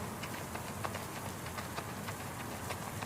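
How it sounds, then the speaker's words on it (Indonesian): Heavy rain pours down steadily, a dense hiss of falling water with scattered sharper drops, continuous and close, with no voices. "Tubuhku sudah basah kuyup karena guyuran hujan yang semakin deras."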